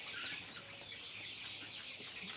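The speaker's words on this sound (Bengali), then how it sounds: "এই যে সব আমার মুরগি এগুলা" A poultry flock of chickens about 22 days old clucks and squeals in a steady, dense chorus of overlapping small calls, close by and fairly loud, with no talking.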